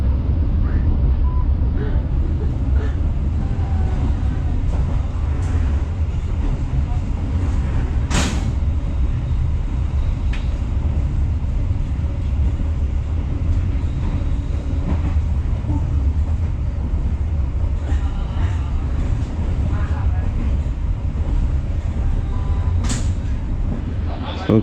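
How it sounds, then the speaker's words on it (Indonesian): A local passenger train on the Cepu to Surabaya Pasar Turi line heard from inside, a loud continuous rumble of wheels and carriage noise with occasional sharp clanks, while someone talks over it. "ini keretanya sudah sampai di stasiun Bawerno"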